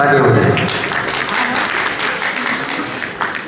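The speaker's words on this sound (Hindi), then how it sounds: "उन बच्चों के लिए भी जोरदार ताली हो जाए" Loud audience clapping at a college New Year programme, dense and sustained throughout with crowd noise and a voice briefly heard beneath it.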